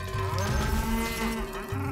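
A single cow moos in the Mario Strikers Charged Football video game, one short, low, sustained call heard clearly with no talk over it.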